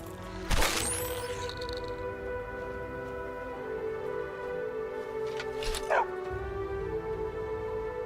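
Paco, a dog in a video game, gives a sharp bark near the start and another yelp later over a steady musical game soundtrack, fairly quiet overall.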